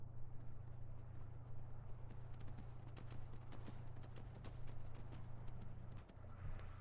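Rhythmic clip-clop of a mechanical dwarven horse's hooves in Skyrim, over a steady low hum, regular hoofbeats close by, slowing near the end.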